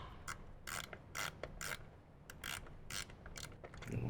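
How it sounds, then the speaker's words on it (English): A 7/16 wrench ratchets speaker pod bolts tight on a 2014+ Harley fairing, sounding as close, rhythmic bursts of metallic clicking repeated about eight times with short pauses between them. "tighten up both speaker pods completely using our 7/16 wrench and our Allen"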